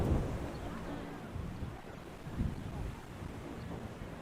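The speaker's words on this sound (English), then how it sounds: "It's a windy day." Wind buffets the microphone at a high school baseball game, West Hancock at Southeastern, making a steady low rumble with a few stronger gusts. The noise is fairly quiet, with no clear voices.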